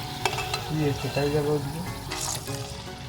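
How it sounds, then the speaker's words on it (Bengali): Palm fritters (taler pitha) deep-fry in hot oil over a medium flame, giving a close, continuous sizzle and bubbling for about three seconds, with a voice briefly audible over it. "বাকিগুলো ঠিক আবারও একই রকমভাবে দিয়ে ভেজে তুলে নেব"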